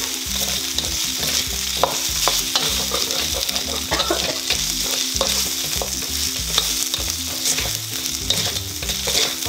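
Chopped cow snout (cingur) sizzling and frying in a pan while being stirred, with steady close hissing and repeated scraping stir strokes throughout.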